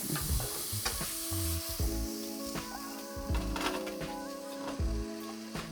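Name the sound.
mushrooms sautéing in a pot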